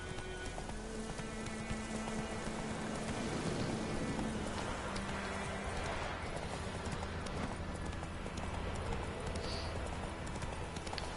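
Roach, the player's horse in The Witcher 3, gallops with steady, rapid clip-clop hoofbeats over a continuous wash of rain, with a musical score underneath.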